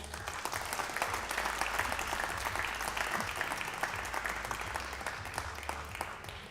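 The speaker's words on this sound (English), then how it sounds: "Crowd appreciating that one again." Spectators applauding at the Predator WPA World 8 Ball Men's Championship pool match between Shane Van Boening and Albin Ouschan, a steady, dense clapping sustained throughout at moderate volume.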